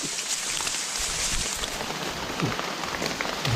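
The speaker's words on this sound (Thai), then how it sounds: "โอ้ยฝนบ่หนาตกเลย" Rain pattering steadily on leaves and ground in a Thai forest during an afternoon of picking mushrooms, a dense, even hiss with scattered close drops, no voices.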